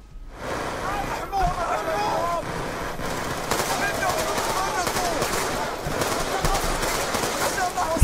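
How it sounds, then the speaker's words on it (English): Sustained rapid gunfire and machine-gun bursts rattle throughout a video game mission, loud and continuous, with a person talking over the shooting. "They will see you, and then they will open fire on you."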